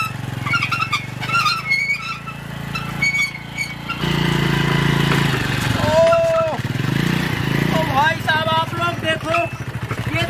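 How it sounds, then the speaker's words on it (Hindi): A motorcycle fitted with a giant tractor tyre rides with a steady mid-pitched engine drone, running under loud, near, continuous talking throughout. "लेकिन यार फिर भी बाइक चल तो पा रही है।"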